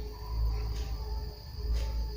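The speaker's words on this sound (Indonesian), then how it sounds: "Suara krik krik krik yang dikeluarkan oleh gangsir disebut sebagai suara derik" A gangsir, a large cricket, chirps at night beside a house: a faint steady trill over low background hum, with two brief brighter pulses, fairly distant and with no voices.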